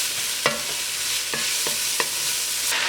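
Two pounds of mild and spicy Italian sausage fry in a soup pot with aromatics, a steady close sizzle broken by several sharp spoon knocks against the pot as it is stirred.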